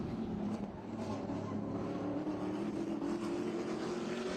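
Trans Am race cars braking into turn 17 at Sebring, engines roaring loud and steady with a rising whine throughout.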